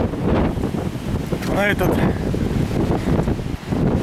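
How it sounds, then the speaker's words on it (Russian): Strong wind buffets the microphone in rough gusts near Mount Teide volcano on Tenerife, a roaring rush with a person speaking briefly underneath. "Тут порывы ветра кидают."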